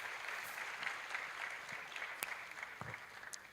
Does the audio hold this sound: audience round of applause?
yes